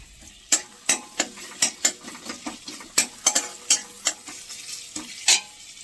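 Grated garlic fries lightly in a pan, a soft continuous sizzle punctuated by a quick run of sharp spoon scrapes and taps against the metal, close up with no voice.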